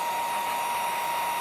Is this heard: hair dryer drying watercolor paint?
yes